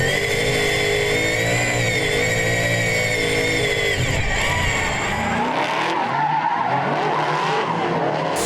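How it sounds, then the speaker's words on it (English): A drift car with straight-cut gears accelerates hard at Sydney Motorsport Park during a drift series round, its engine whine and tyre skids roaring loud and close before the note drops and fades as it pulls away. "Straight cut gears are just the absolute sound of a race car."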